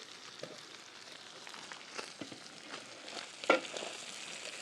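Roasted red pepper puree slides into a chili pot with a faint, steady wet sizzle and soft stirring ticks, one brief louder splat near the end, low and without talk.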